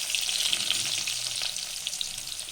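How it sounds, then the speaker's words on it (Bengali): Bay leaf, cumin and chopped onions fry in a hot pan for a soya chunk masala curry, giving a steady bright sizzle with small crackles and a brief stir, close and loud with no talking. "এগুলো এখন একটু সময় ভাজবো, একটু পেঁয়াজটা নরম হবে"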